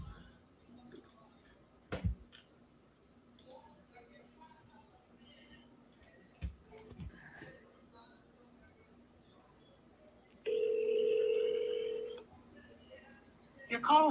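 A telephone sounds during a call to a sales lead: faint clicks and taps, then a steady, fairly loud electronic tone lasting about two seconds before quiet returns.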